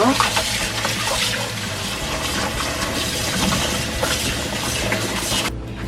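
Tap water runs steadily over aged kimchi being rinsed clean in a kitchen sink, a continuous close splashing hiss with someone talking over it, cutting off abruptly near the end.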